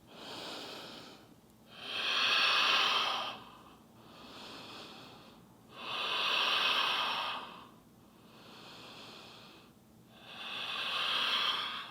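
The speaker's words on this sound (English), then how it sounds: "breathing." Slow, deep breathing during a vinyasa yoga flow at home: three long, loud, airy breath cycles, each swelling and fading in a steady rhythm, close to the mic with no talking.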